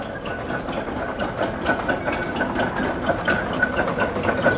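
A Fairbanks Morse engine runs with a steady, rapid mechanical chugging and clatter at moderate distance, a continuous rhythmic knocking beat without speech.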